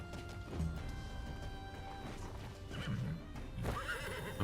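A horse in the Wartales game whinnies loudly over a bed of clip-clopping hooves and battle clatter, with a short crash near the end.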